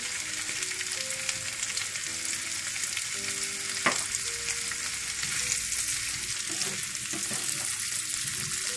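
Steady, loud sizzling of boiled potatoes with salt frying in a hot pan over high heat, with occasional stirring scrapes and pops; no one speaks.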